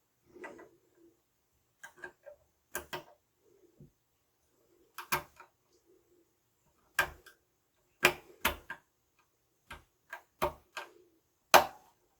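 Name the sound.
tiny screws being screwed into a Mikrotik switch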